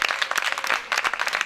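Audience clapping in a burst of dense, irregular hand claps, fairly close and moderately loud, with no talk over it.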